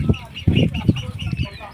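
Chickens kept alongside ducks at a village farm cluck in short, uneven bursts at feeding time, close and fairly loud, with light background noise.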